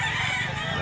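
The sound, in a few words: rooster crowing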